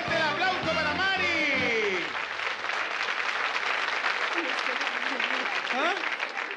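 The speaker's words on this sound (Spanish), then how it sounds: "¡Fuerte el aplauso para Mari!" Studio audience applause at a Chilean-style TV game show after a contestant wins 200,000 pesos, a dense wash of clapping that opens over a loud host shouting, then continues steadily with a few whoops.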